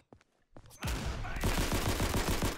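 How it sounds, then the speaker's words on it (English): A short click, then a loud sustained burst of rapid automatic fire from an M3 Grease Gun submachine gun in the video game Day of Infamy, dense and continuous for a couple of seconds. "This gunfire is really slow."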